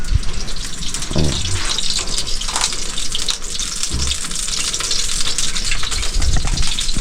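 Water gushing steadily from a tap, loud and continuous with a few low thumps, heard at a beach-side spot with no talk over it.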